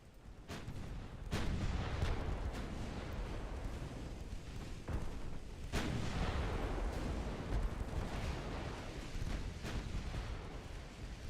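Naval battle in the Ultimate Admiral Dreadnoughts game as a warship takes a double torpedo strike, with repeated heavy booms and blasts over a rumbling background, some sharp and distinct, others duller and farther off.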